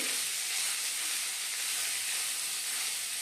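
Sliced onions fry in oil in a pan with a steady, loud, bright sizzle, an unbroken crackling hiss with no voices.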